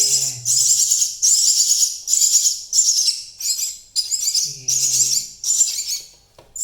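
Rescued nestling baby birds chirp loudly and insistently while being hand-fed soaked pellets, giving high, rapid bursts of begging calls in repeated clusters with brief pauses, close to the listener.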